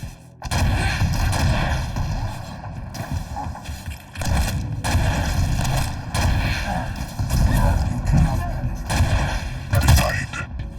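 Rocket explosions in the Quake Champions arena shooter, a string of loud booming blasts and gunfire bursts in rapid succession, close and punchy, with a brief pause midway.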